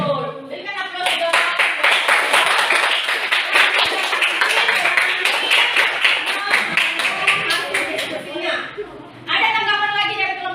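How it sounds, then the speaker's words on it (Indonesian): A classroom of students claps together in a loud, dense burst of applause lasting several seconds, then it tapers off and a teacher's voice resumes. "Berikan aplaus dong."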